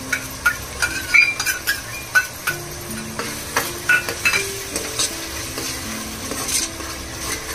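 Masala paste and half a bowl of yogurt frying in a pan for a vegetable potato dum biryani, with steady sizzling broken by a string of spoon stirs and scrapes close up.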